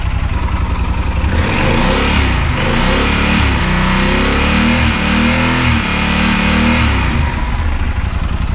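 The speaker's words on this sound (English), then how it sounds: "So that's what a 2-cylinder sounds like." A Yamaha Super Tenere 1200 motorcycle engine revs hard and loud, its throaty two-cylinder pulse rising and falling through several throttle blips with no talking.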